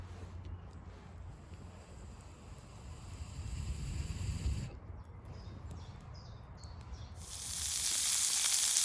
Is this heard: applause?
no